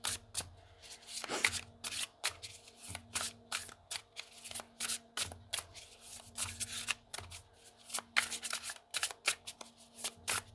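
Tarot cards being shuffled by hand, a run of crisp riffling bursts with short pauses between, close and clear, with no talk over them.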